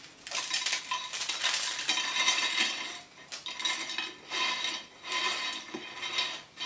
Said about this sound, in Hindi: उसके बाद जो हमने मोटी जाली से बनाई थी उसका भी आपको आवाज़ सुना देते हैं क्रिस्पीनेस का।